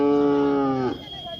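A young Khillar bull at a cattle market in Sangola lets out one loud, close moo, a tonal low call held for about a second before breaking off, followed by faint background noise.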